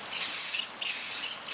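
Two bursts of spray coating hitting a fiberglass car subwoofer box, each a loud close hiss lasting about half a second, separated by a short pause.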